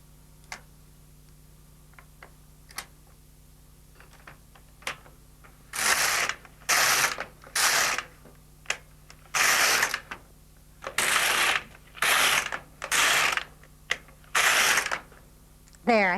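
An LK150 knitting machine carriage sweeps back and forth across rows of a tuck-stitch pattern, about eight broad rasping whooshes in a steady rhythm. Light ticks and clicks come before them, close and fairly loud.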